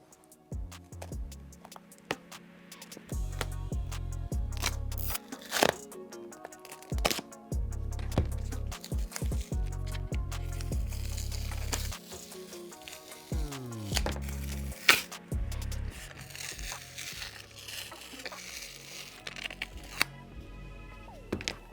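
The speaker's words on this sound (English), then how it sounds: "Now for my favorite part when it comes to a restoration, the peel." Layers of a Nike Dunk sneaker are peeled apart during restoration, giving repeated close crackling tears, rips and soft thuds, with bursts of sticky separation spread unevenly over about twenty seconds.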